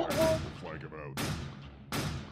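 Boltor rifle gunfire from the Warframe video game, heard as three separate sharp bursts spaced roughly a second apart, moderately close, with faint talk in between.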